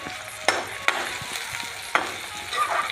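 Onion tipped into cumin seeds frying in hot oil, a soft steady sizzle broken by a few sharp stirring clinks of the spoon against the pan, close and fairly quiet.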